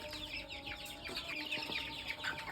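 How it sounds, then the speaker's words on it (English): Young chickens on a farm clucking and chirping while hungry for a simple homemade feed mixture, a steady busy chorus of small calls close by with no talking. "Now I will show you the little chicken that was just being fed earlier"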